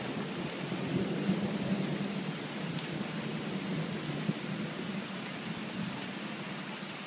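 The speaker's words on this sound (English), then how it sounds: "And you can probably hear that thunder crack quite well." Thunder rumbling through a very strong, intense thunderstorm in Taft, Tennessee, a low, steady roll beneath constant heavy rain, with one sharp brief crack, distant and moderately faint.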